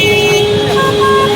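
Car horns honk in the city traffic of Siliguri, several tones sounding together steadily and loudly over a dense road rumble for the whole moment, with no talking.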